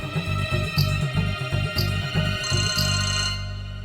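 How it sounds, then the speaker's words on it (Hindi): A mobile phone ringtone plays in a repeating melodic pattern, loud and close, with rhythmic pulses and bright chime accents, alone without talk. "मानवी का फोन।"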